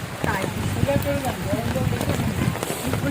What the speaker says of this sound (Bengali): বাবা প্রচন্ড বৃষ্টি হচ্ছে।